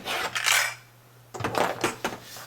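Small plastic LEGO pieces from a Star Wars Gungan Sub set clatter out onto a hard surface, two brief rattling bursts separated by a pause, close and fairly quiet.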